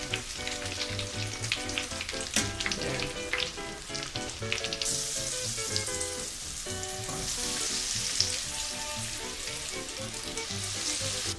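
Scotch eggs frying over moderately low heat in shallow oil reaching just one side, giving a steady close sizzle with crackling pops and spatter throughout, no talking.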